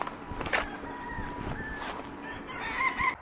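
Chickens kept in a 10 by 10 dog kennel being winterized give scattered clucks and short calls, with rustling and light footsteps at moderate distance.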